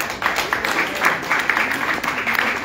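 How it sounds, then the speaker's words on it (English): Audience applause at a ceremony honouring a royal majesty, a continuous, even patter of many hands clapping at moderate volume, sustained for the whole stretch with no talking over it. "let's give a round of applause for your Royal Majesty."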